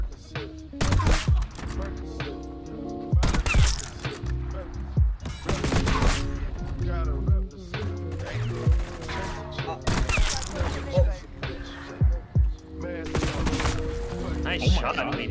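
Sniper rifle shots in a video game crack out one after another at irregular intervals, each a loud, sharp report with a short decay, interleaved with other game sounds.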